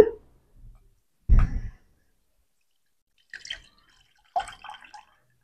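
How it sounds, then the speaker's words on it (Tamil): Tamarind water is strained into another vessel while making anchovy fish kuzhambu, giving a few brief splashes and drips separated by quiet pauses. "திருப்பி இன்னொரு பாத்திரத்தில் வடிகட்டி எடுத்துக்கோங்க."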